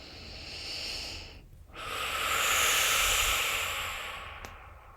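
Slow, deep, conscious breathing is heard close up. A long hissing exhale follows a short breath, with a brief pause between them, and no talk.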